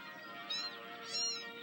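Cat from the video game Amanda the Adventurer 2 meowing twice, two clear, fairly close meows, the second longer, with no talking.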